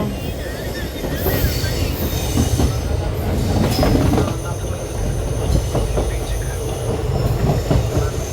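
A train rumbles steadily nearby at Tambaram railway station, with clattering wheels and occasional high metallic squeals, loud and continuous.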